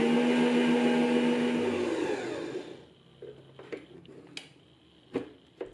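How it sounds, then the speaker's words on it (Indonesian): An electric mixer whips egg whites at high speed, a loud steady motor whir that runs for about three seconds before stopping, followed by a few quiet knocks and taps. "naikkan kecepatan mixer pakai speed tinggi. Mix terus sampai kocokan putih telur soft peak"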